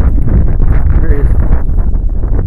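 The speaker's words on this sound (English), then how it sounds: "This wind is insanely brutal. I'm sure you can hear it." Strong, brutal wind buffets an open frozen lake during ice fishing, a loud continuous low roar of gusts battering the microphone with no letup.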